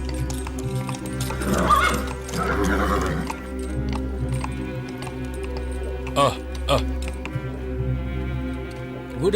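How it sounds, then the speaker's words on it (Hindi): A nervous horse, arriving at an inn in the evening, gives a long neigh early on, followed by hoof clops and stamping, close by, with people talking around it. "क्या आप अपने घोड़े को यहाँ रखना चाहेंगे?"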